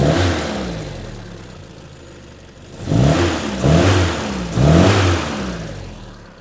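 An MG Midget engine runs near at a smooth idle and then revs three times in quick succession, each rise swelling loudly before falling back, with no talk.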